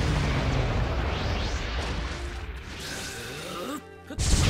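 A jutsu explosion in the Naruto Shippuden Ultimate Ninja Storm 4 video game, loud booming blast and crashing effects layered with rising whooshes, cutting off abruptly near the end before another burst.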